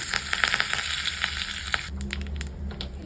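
Asafoetida and curry leaves sizzle in hot oil for a Tamil peanut chutney tempering, a close, steady crackling fry with bright popping spatters that settles into a quieter hiss.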